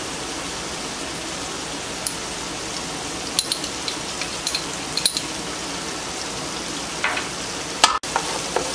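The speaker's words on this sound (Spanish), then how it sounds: "Ahora vamos a agregar la pasta de tomate." Tomato paste sizzles and fries in a pan for arroz con mariscos, a steady close crackling hiss with occasional clicks and scrapes of stirring, and no voices.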